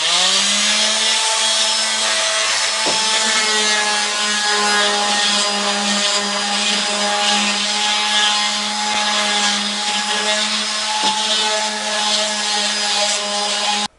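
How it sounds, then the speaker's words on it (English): A power sander whines continuously against wood, loud and close, with a steady motor tone and occasional light knocks, no talking. "time for some sanding."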